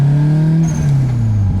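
A Nissan Pulsar GTI-R engine revs loud and close during a test drive, a brief rising roar that eases off.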